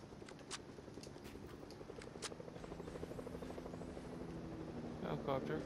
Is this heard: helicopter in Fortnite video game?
yes